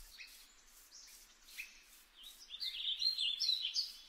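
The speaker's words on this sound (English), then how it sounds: "In Minecraft should be added sounds such as birds singing in the forest" Birds sing in a forest ambience proposed for the Minecraft video game, with faint repeated chirps early and a denser, brighter twittering building toward the end, no voices.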